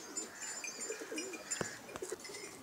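Pigeons coo softly nearby, a few low rolling calls repeating unevenly with light rustling and faint clicks between them, in a quiet setting.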